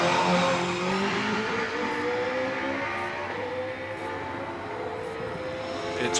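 An OMS hill climb car with a 2.8 V8 engine races up the hill, its engine note rising and falling through gear changes as it passes, loud then fading slightly, with no talk.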